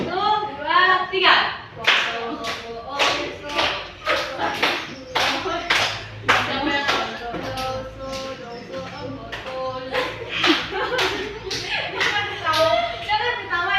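Schoolchildren in a junior high classroom clap their hands in repeated rhythmic bursts on a count, with children's voices and chatter mixed in between the claps.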